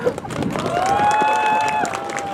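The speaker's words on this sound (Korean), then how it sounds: "박수 좀 크게 치시면 안 되나?" A crowd at the opening lighting ceremony of a light festival in Sejong claps and cheers briefly, with a whistling tone rising over the applause and some voices mixed in.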